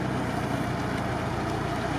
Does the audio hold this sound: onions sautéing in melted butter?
no